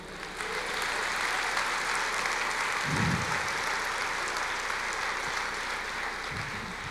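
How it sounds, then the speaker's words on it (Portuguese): A church congregation at an Easter service applauds in a sustained, even wash of clapping that fills the room, with a brief low thump midway and no speech. "Você pode aplaudir o Senhor?"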